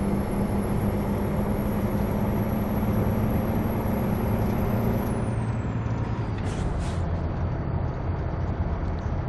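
A Peterbilt truck rolls past in American Truck Simulator, a steady loud engine and road rumble throughout, with a brief hiss near the end like an air brake release.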